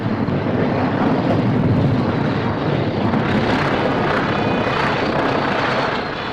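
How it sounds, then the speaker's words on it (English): A World War II military plane lands on a newly captured airstrip in the Admiralty Islands. Its engines roar loud and steady for about six seconds, with heavy wind-like broadband noise and no speech. "Our first plane lands on the Admiralties."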